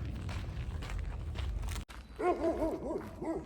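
A dog barks a few times in a quick burst after rustling, crunching movement outdoors in a forest in Italy, moderately close.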